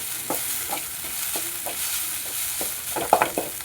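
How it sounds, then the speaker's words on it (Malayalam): Egg and drumstick leaf thoran is stirred in a pan, giving soft scraping strokes at an uneven rhythm over a light sizzle. The strokes come close together and louder near the end. "നന്നായിട്ട് ഇളക്കി യോജിപ്പിച്ച് നല്ല മിക്സ് ചെയ്തെടുക്കുക."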